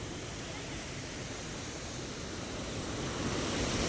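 Steady broadband rushing of a river flowing below an old bridge, continuous and fairly loud, swelling slightly toward the end, with no voices.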